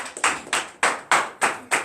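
Hand claps in a rhythmic series of about seven sharp, evenly spaced beats from a congregation during a morning prayer service, close and moderately loud with no talk.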